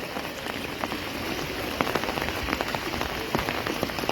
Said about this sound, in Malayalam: ഈ മഴ ഇങ്ങനെ നിന്നാൽ വലിയ പെട്ടെന്ന് വെള്ളം കയറും